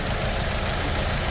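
A Fiat Siena engine idles on natural gas (CNG), a dense, steady rumble with an uneven knocking texture, loud and close, with no talk.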